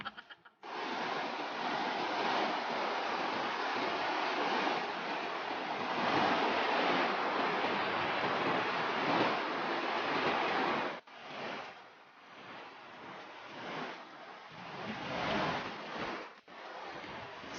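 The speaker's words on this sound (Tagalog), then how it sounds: "So this is the small falls too." A small waterfall at Elora Gorge pours in a steady, broad rushing hiss of running water, continuous and fairly close, dipping briefly a couple of times.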